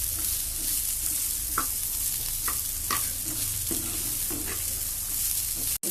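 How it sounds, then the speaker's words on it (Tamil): Onions sautéing in a pan for a street-style onion dosa, a steady close sizzle with occasional scrapes and stirs of a spatula, no talking. "வெங்காயத்தை நல்லா வதக்கிக்கணும்."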